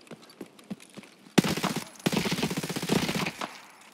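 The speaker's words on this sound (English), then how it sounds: "who's shooting that?" Bursts of gunfire in the shooter game Escape From Tarkov, a sparse scatter of distant shots followed by louder, dense sustained automatic fire that fades near the end.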